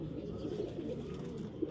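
Soft, low cooing from Teddy pigeons murmurs steadily through a quiet background, close by, with no talking.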